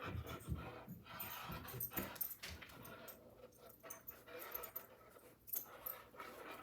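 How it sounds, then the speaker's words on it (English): A female dog plays and pants nearby, with scattered thumps, jangles and soft whimpers over a low steady hum at a craft table, no talk. "My dog is having a fantastic time playing with herself. I'm sure you can hear."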